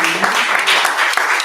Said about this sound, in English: let's have another round of applause for our featured performers